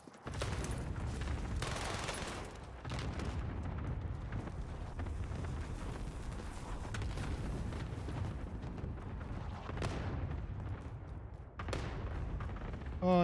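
Deep, rumbling explosions from an airstrike in a video game, rolling booms overlapping in a continuous heavy roar with a few sharper blasts standing out.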